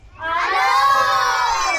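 Children at a birthday party shout together in one loud, sustained group yell that swells quickly and holds steady for under two seconds.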